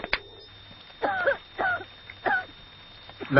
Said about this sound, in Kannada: ಇನ್ನು ಕೆಮ್ಮು ನಿಂತಿಲ್ವಾ?